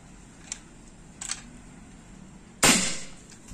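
Shots from a BIGGAME Army Lar4s folding PCP air rifle, 50 cm Monel barrel at 4000 psi: two faint, sharp cracks followed by a much louder, close crack with a short decaying tail, over quiet background hiss.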